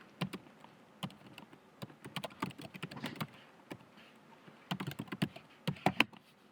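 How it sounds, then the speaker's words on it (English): Rapid, irregular clatter of keys on a Japanese computer keyboard, typed in bursts with brief pauses, close and fairly quiet, with no talking. "Whoa, okay, this is a Japanese keyboard."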